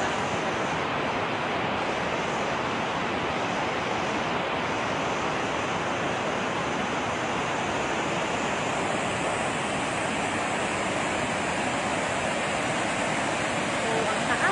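Water rushes through the open spillway gates of Magat Dam in a steady, loud, broadband roar that holds unbroken from start to finish, with no voices standing out.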